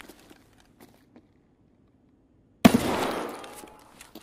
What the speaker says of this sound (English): Can you try to shoot me in the leg through these two?